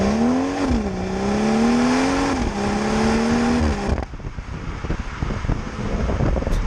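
BMW M140i, a rear-wheel-drive hatchback, pulling hard in third gear: a rising engine note climbs loudly for about four seconds with a brief dip mid-pull, then cuts to wind and road rush.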